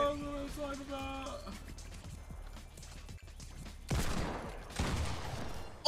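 Minigun gunfire in the video game Fortnite: sustained bursts crackle through a busy game mix, with two louder stretches near the end, while people talk over it.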